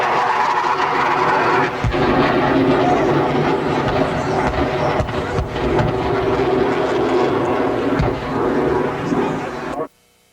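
Aircraft flying overhead at an air show, two planes in formation with one upside down, a loud sustained engine roar for about ten seconds that swells and fades slightly before cutting off.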